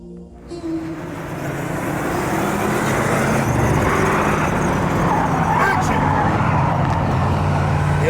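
A car swinging through a Hollywood 180 reversing turn during a driver rehab lesson, its engine and tyre roar rising quickly and holding loud and close, with faint voices underneath.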